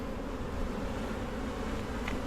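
Honey bees hum at an open beehive in mid-May while frames are inspected, a dense, steady, close buzzing drone that never lets up, with no voices over it.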